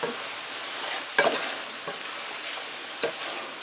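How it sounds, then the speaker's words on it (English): Mushrooms sauteing in a frying pan hiss steadily while a utensil stirs them, giving a few sharp scraping knocks against the pan, close up. "Now I'm just going to mix that around."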